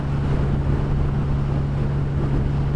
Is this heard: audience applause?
no